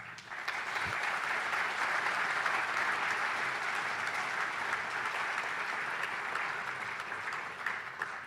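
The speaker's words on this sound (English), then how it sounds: "I saw the legislators were clapping" County legislators clap during a State of the County address, a sustained even round of applause from a roomful of people, moderately loud, with no talking over it.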